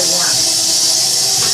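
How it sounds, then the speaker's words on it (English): Hot tap water runs over a metal spatula in a kitchen while buttercream is being smoothed, making a steady, loud, unbroken hiss that lasts the whole moment. "So I'm running the spatula under hot water so that it'll smooth it not only physically by pressing, but also by the warmth"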